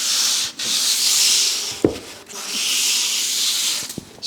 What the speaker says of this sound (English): sand along that. That's 320 grit, just to get any little bumps off of there.